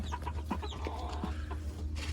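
A Buff Polish chicken clucks in short, repeated bursts close by, over a low steady hum in the background.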